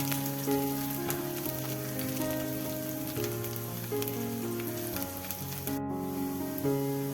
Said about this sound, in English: heat oil in it. Add half inch of ginger peeled and chopped, half tablespoon of chopped garlic. Saute till the raw smell goes away